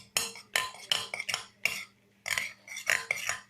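Peppermint butter slime, with shaving foam just added, stirred in a container: a series of close, sticky, wet squelching bursts with short gaps between them, no talking.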